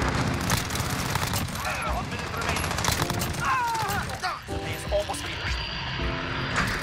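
Aircraft flying overhead in a Modern Warfare match, a steady engine drone running through the whole stretch beside bursts of gunfire and battle noise, with voices talking over it.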